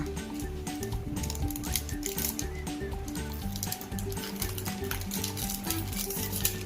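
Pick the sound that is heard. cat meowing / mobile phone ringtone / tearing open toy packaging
tearing open toy packaging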